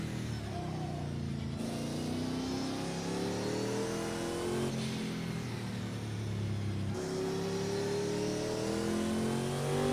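Race car engine in the Project Cars 2 racing game revving hard and continuously, with rising and falling pitch sweeps through repeated gear changes, loud and steady throughout with no talking.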